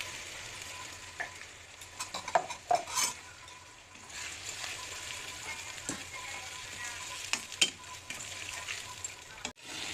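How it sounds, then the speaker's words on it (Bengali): Onions fry and are stirred in a pan with ginger, garlic and tomato paste, giving a soft continuous sizzle with scattered scraping clinks of a spoon against the pot. "পেঁয়াজ ভালো করে ভেজে নেব। আদা, রসুন, টমেটো বাটা,"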